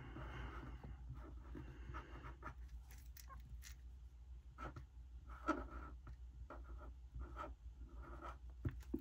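A pen scratches across the page of a paper Happy Planner during a monthly layout setup, making soft, continuous writing strokes with small pauses and faint rustles, close and quiet, with no talking.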